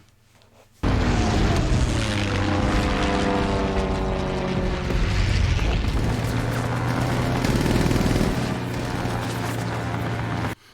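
WWII-era propeller aircraft roar past in Masters of the Air, a loud, dense engine drone with sweeping, shifting tones that stays near and constant for about ten seconds with no speech.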